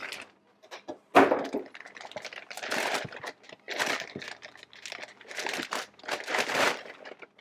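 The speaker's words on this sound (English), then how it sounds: "Comes in this plastic bag." Crinkling plastic bag, packaging for a Colt M16A4 clone rifle, handled up close in irregular bursts of rustling and crackling, with no talking.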